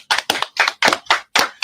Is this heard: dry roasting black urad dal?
no